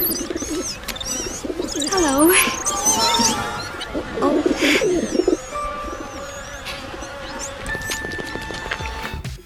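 Birds coo and warble in Disney's 1950 animated Cinderella, soft rolling calls layered with whistly chirps and light music, and a voice speaks briefly.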